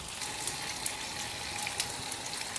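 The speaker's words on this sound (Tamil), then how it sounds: "கடுகெல்லாம் வெடிச்சிருச்சு." Mustard seeds pop and crackle in hot oil while being tempered with asafoetida for a Tamil kovakkai gravy, a steady close sizzle scattered with small sharp bursts.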